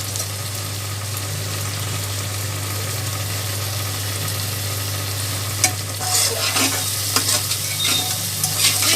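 Vegetables with soy sauce and black pepper sizzle loudly in a pressure cooker for a Chinese pulao, with a steady low hum underneath and brisk scraping stirs growing busier toward the end.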